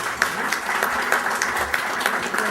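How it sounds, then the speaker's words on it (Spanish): An audience at an arbitration book launch event applauds warmly, a continuous even clatter of many hands with a few sharper claps standing out, with no talk over it. "Por favor, recibámoslo con un fuerte aplauso."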